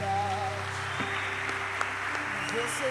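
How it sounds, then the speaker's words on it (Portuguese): A church congregation applauds, a soft, diffuse patter of many hands blended under sustained instrumental music and a voice speaking. "Dá uma salva de palmas para Jesus"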